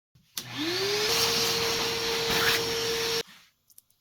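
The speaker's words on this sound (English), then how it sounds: "We need to do a second round of routing." A vintage US-made router fitted with a router bit cuts into a Spigen plastic phone case for a Samsung S25, spinning up with a rising whine into a loud steady high-pitched grinding buzz for about three seconds, then stopping abruptly.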